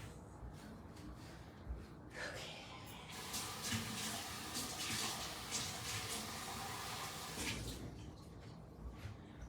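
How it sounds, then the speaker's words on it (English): Water splashes and runs into a cooking pot in a home kitchen while rajma masala is being made, a rising gush that swells for several seconds before tapering off. "Now we need some water to fill this thing."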